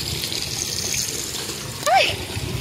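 Water flows through an irrigation channel that feeds rice paddies at night in Sorsogon, Bicol, making a steady close rushing wash. A brief voice exclamation rises over it near the end.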